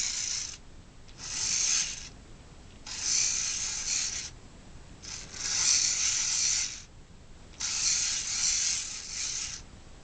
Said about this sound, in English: It's a hand crank LED flashlight.